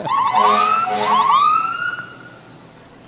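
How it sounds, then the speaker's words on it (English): A loud fire truck siren wails close by at a parade at the Colorado State Fair, sweeping up and down in pitch before fading away. "the kids always like to hear the sirens and check out the lights"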